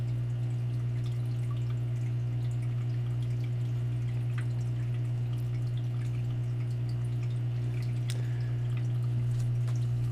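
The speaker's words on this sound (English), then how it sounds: "At 200 gallons a minute, you can imagine the amount of water that was in the hull of this boat just by looking at the way this pump is pumping." An emergency salvage pump moving about 200 gallons a minute out of a sinking boat's hull hums steadily and constantly, with faint drips and splashes of water running over it.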